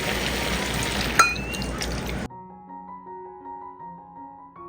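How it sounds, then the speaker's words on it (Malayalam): Half a cup of water poured into chicken and potatoes in a pressure cooker, a short splashing pour that ends abruptly, followed by quieter kitchen sounds. "ഒരു 1/2 കപ്പ് വെള്ളം ഒഴിച്ചു കൊടുക്കാം."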